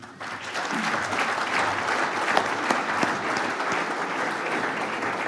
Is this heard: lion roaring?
no